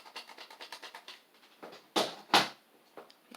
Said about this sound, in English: On Xbox, they have some cushions back there, so it sounds like this.